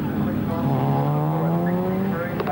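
A Camaro sports sedan race car revs high at the start with a rising, strained whine as tires spin on grit and sand, loud and continuous, with a commentator's voice faintly underneath.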